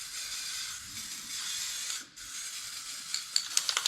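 A steady hiss of a malfunctioning aerosol spray can, briefly cutting out, then resuming with a few faint clicks and rattles.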